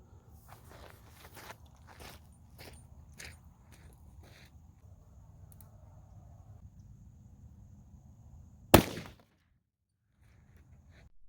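A single sharp gunshot from a .44 Magnum firing a Remington 180gr JSP round into ballistics gel cracks loudly and briefly after quiet shuffling and handling noises.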